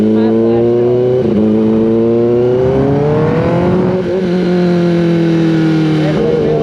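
Kawasaki ZX10R Gen 6 sport bike engine with an aftermarket flash tune revving up and down, strong steady harmonic drone with pitch rises and dips, loud and close, continuous throughout.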